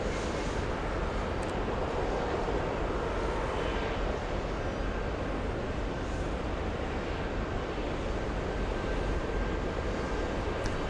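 A Virgin Atlantic Airbus A330neo arrives at JFK airport, its jet engines giving a continuous broad roar that holds steady and loud throughout, with no voices.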